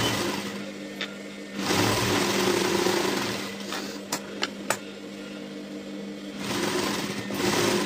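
A sewing machine stitches a blouse piece, running in a steady whirring hum with short pauses and a few sharp clicks between runs, close and without talk.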